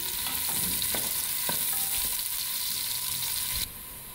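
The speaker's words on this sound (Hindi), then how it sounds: "अब इसको थोड़ा सा ब्राउन करेंगे।" Finely chopped onions sizzle and fry steadily in a pan as they brown, with a few clinks of stirring. The sound is close and continuous, and the sizzle drops suddenly near the end.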